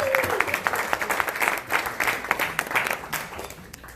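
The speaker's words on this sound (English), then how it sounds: "Please give a rounding applause for my friend Keto Hodge." An audience at a presentation breaks into steady applause, with dense, sustained clapping from a crowd that continues throughout.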